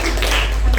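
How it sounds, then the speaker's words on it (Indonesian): A brief burst of audience applause at a school presentation on globalization, with dense, close hand claps filling the whole moment. "Tepuk tangannya mana?"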